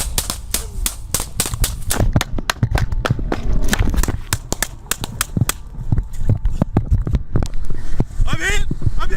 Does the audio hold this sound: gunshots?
yes